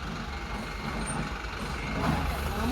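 A tour bus manoeuvring in Munnar, steady engine rumble with a hiss of air brakes and faint reversing beeps, continuous and fairly close, no talking.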